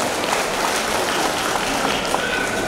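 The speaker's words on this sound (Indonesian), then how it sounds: "Bisa kita kasih aplaus untuk PT Darmawan" An audience at a send-off for Hajj pilgrims of PT Darmawan Tour & Travel claps steadily in a dense, even wash of applause, loud and continuous for nearly three seconds.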